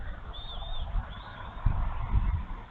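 Faint high-pitched eaglet chirps repeat in the background over low rumbling noise and a few soft thumps.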